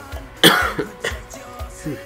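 A single sharp cough bursts out, followed by a couple of smaller throaty catches and faint background noise.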